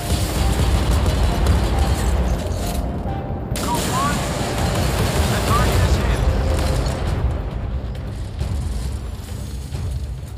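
Warship deck gun fire and explosions in the naval combat video game Modern Warships, featuring the German F126 frigate: a dense, continuous roar of booms and blasts with a few whistling shells, layered under game voices throughout.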